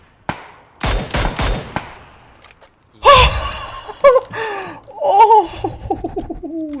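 Short bursts of automatic gunfire in a video game shooter ring out sharply, followed by more scattered shots and clattering effects, with muffled game sounds filling the gaps.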